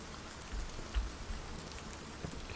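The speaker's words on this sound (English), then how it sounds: "I think it's just some sort of rain splashing on the ground effect" Rain splashes on the ground in a video game, a soft, steady patter of drops with a few slightly louder splats, faint and diffuse.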